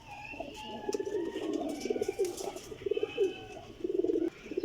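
Champion flying pigeons coo steadily in a continuous run of low, rolling throaty phrases, near and fairly loud, with a few soft clicks and rustles and no talking.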